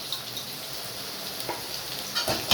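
Ginger garlic paste frying in a pan, a soft continuous sizzle with a few brief stirring scrapes near the end, close and fairly quiet with no talk.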